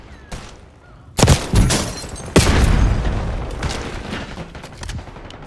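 A flashbang grenade goes off amid a multiplayer firefight in Call of Duty Black Ops 6, with several loud sharp bangs and bursts of gunfire over a constant roar of battle noise.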